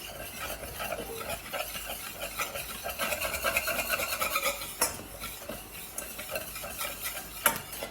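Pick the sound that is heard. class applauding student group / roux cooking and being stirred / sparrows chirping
roux cooking and being stirred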